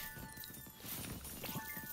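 Horse hooves clip-clopping with a neigh from a Roblox Pet Simulator 99 game, dense and steady over game music tones and background effects for about two seconds.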